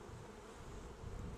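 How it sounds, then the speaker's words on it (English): Honey bees from a captured swarm a week after capture, drawing out white wax comb, make a steady, dense buzzing hum close by with no other sound. "I might just shake or brush a few bees away so you can really get a look at what's going on there"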